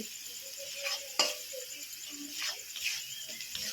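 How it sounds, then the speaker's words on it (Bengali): Rohu fish curry stirred in a pan after salt and turmeric go in, soft sizzling under scrapes and clinks of the spoon, one sharper knock near the start, fairly quiet and close. "এই যে এখন হলুদটা দিয়ে দিল, এখন পুরো নাড়বে"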